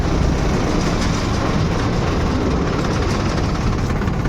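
A farm tractor's diesel engine runs steadily and loudly, with a continuous low rumble and no pauses or voices.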